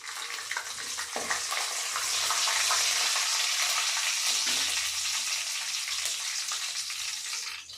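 Lentils and green chillies sizzle and fry in a pan, a steady, close crackling hiss with occasional stirring that holds at full loudness for the whole stretch, with no talking.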